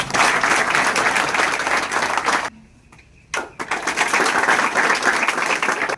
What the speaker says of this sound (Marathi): टाळ्या वाजवायच्यासाठी.